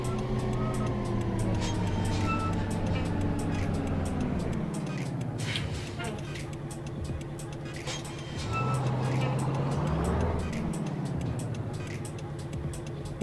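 Traffic cars sweep past in American Truck Simulator over a steady truck engine drone, with two distinct pass-bys whose pitch swoops downward as each vehicle goes by.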